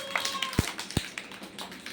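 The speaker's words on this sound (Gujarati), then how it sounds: "તાળીઓ પાડો." Children's clapping during a focus-building game for kids, heard as a few sharp claps standing out from a quiet room with faint background voices.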